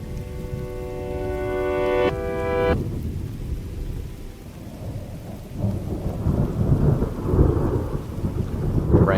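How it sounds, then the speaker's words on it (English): Steady rain hisses while low thunder rumbles and rolls, building louder toward the end; a brief tonal chime sounds near the start. "Rain, thunder rolling in."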